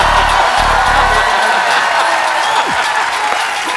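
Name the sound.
studio audience applauding on comedy show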